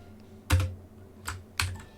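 Three crisp clicks of typing on a computer keyboard, spaced apart and fairly close in an otherwise quiet room.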